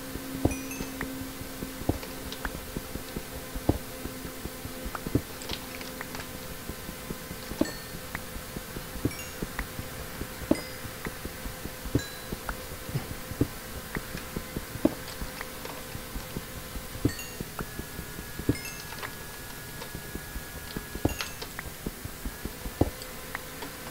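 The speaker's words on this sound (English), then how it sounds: "I bet you guys can hear my computer right now running" A desktop computer hums steadily during a Minecraft modpack session, with a constant soft fan drone under a dense, irregular stream of light keyboard taps and mouse clicks close to the microphone.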